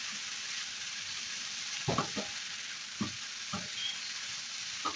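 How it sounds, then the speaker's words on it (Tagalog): Vegetable filling for sambusa, lightly salted, stirred in a frying pan under a steady sizzle, with a few sharp spoon scrapes and knocks against the pan at irregular intervals, close and fairly quiet. "Haluin lang natin siya doon para hindi ko masinit"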